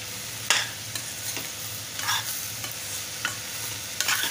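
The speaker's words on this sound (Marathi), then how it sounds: "हे टोमॅटो घालूया. परतून घ्यायचे जरा चांगले." Chopped tomatoes sauté in a hot pan with a steady sizzle while a spoon stirs and scrapes in irregular clicks and knocks, close by and with no voices.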